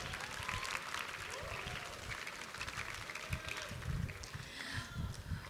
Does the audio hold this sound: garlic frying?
no